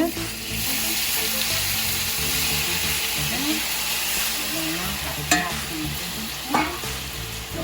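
Meat fries in oil in a pot for Haitian squash soup while a spoon stirs it, producing a continuous close sizzle with scraping strokes and a couple of sharp clinks; faint voices sound underneath.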